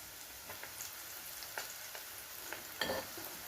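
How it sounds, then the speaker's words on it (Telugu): Chana dal fries in oil with a soft, quiet crackle, and scattered light pops and stirring clicks are heard over it. "ఆయిల్లో ఈ శనగపప్పు అంతా వేసి వేయించేసుకుందాం"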